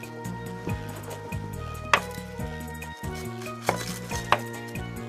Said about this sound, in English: Let's cut this guy up right quick.